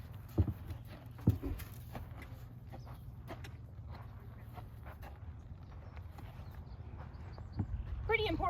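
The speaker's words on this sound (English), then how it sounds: "So we're gonna bring my horse up here." Slow, irregular hoof clops from a horse walking up to a mounting block nearby, with low background rumble and someone talking quietly.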